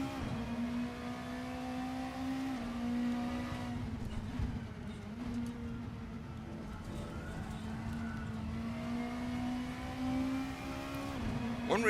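A front-wheel-drive touring car from a British touring car pack races in Assetto Corsa, its engine droning steadily at a high, slightly wavering pitch, with small shifts in revs, heard alone without talk.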